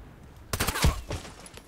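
A silenced gun fires in a video game, giving a quick burst of a few muffled shots in close succession.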